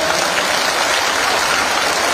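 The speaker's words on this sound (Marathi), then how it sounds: "हात वर करून जोरदार टाळ्या वाजूया" Dense crowd applause at a public political event honoring a local legislator, many hands clapping steadily and loudly without a break for about two seconds.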